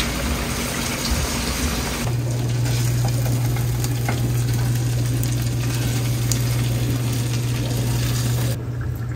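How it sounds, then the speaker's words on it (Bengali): Prawns fry in a pan with a loud, continuous sizzle and crackle throughout, and a steady low hum from a nearby appliance comes in partway through. "এই যে প্রন, আমাদের প্রন ভাজা হচ্ছে প্রথমে"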